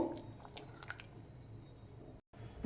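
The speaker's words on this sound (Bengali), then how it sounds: "গরম জল দেওয়ার পর এইভাবে হালকা একটু নাড়িয়ে নিতে হবে।" Mutton curry is stirred gently after hot water has been added, making soft wet squishing and sloshing sounds close by over a steady low background, with a very brief dropout near the end.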